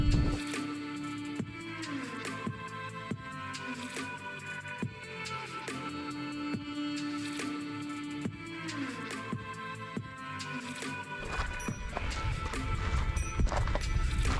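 Mule hooves clip-clop on the rocky South Kaibab Trail in the Grand Canyon, a steady rhythmic series of close, distinct hoof strikes. Tonal sounds continue underneath, and the footfalls grow louder and denser toward the end.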